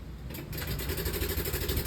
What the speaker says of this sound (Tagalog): Pakinggan nyo yung makina.